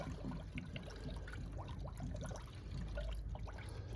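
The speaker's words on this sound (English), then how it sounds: "I'm gonna get the antifreeze and start pouring in." Antifreeze pours into a vehicle's rusty cooling system, a quiet, steady trickling and gurgling of liquid with no voices.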